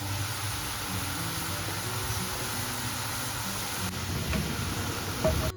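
Filled Moroccan rghaif pastries frying in oil in a pan, a steady soft sizzle and crackle that holds throughout with no talking.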